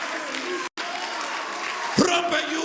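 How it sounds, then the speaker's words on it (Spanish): A church congregation claps along loudly in a steady wash of applause, with a preacher's voice and crowd noise mixed in and a brief break partway through. "Come on, dale un aplauso al Señor"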